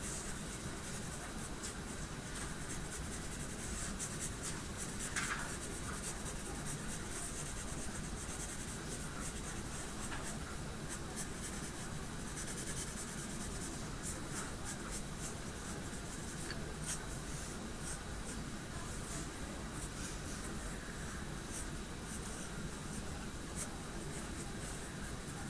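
Steady scratchy graphite strokes of a dull pencil sketching on paper, close and continuous with quick back-and-forth rubbing, no voices.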